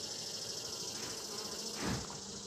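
A low, continuous buzz of many honeybees in a hive, with one drone bee briefly droning louder as it passes near.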